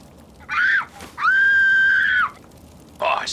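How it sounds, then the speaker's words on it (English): In Fallout 3, a child screams from ruins in the wasteland: three shrill, wavering wails, the middle one long and sustained, separated by short gaps over a quiet background. "that sounds like a kid screaming, and it's coming from those ruins."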